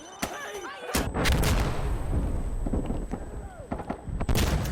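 Deep booming blasts and heavy gunfire from an RPG fight in Insurgency Sandstorm, set in a Fallujah last-stand battle, with repeated loud impacts over a dense, continuous wash of combat noise.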